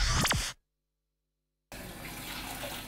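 Tap water running from a kitchen faucet, a steady rushing stream that cuts off to silence for about a second and then resumes at a moderate level.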